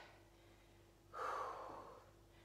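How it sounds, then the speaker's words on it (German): A single forceful exhale is pushed out mid-repetition during a TRX leg workout. It is a breathy, hissing burst lasting about a second, close to the mic and alone. "Bei jeder Wiederholung schnaufen"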